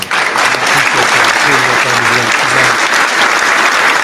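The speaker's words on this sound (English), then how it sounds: "Let's give everybody a big old round of applause, man" A loud, sustained round of applause from a crowd fills the whole stretch, with a voice talking over it.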